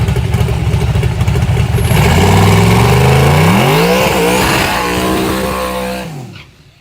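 A twin-turbo small-block drag car on an aftermarket block screams loudly at close range, its engine pitch climbing through a hard rev before cutting off abruptly near the end.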